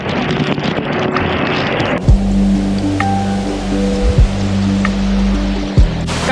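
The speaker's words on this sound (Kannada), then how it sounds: "ಕಾಡಿನ ಮಧ್ಯ ಈ ಥರ ಸುಂದರವಾಗಿರೋ ವಾಟರ್ ಫಾಲ್ಸ್ ಇರೋದೇ ಆಶ್ಚರ್ಯ." Rushing water from a forest waterfall at night pours steadily at first, then gives way to a loud, wind-buffeted rumble with occasional thumps, close to the microphone and without talk.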